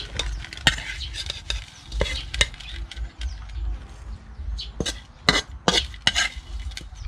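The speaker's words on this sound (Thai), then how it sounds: "มีทอดไข่นี่นะครับ" Eggs frying in a pan at a rural Thai cooking spot, a steady close sizzle under repeated sharp scrapes and clatters of a utensil against the pan.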